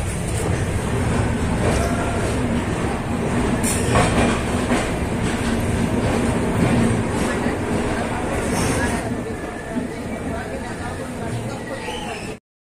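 Train running through Kamakhya station in Guwahati, a loud continuous rumble of rail cars with clattering wheels and faint squeals close by, a voice talking over it before the sound cuts off abruptly.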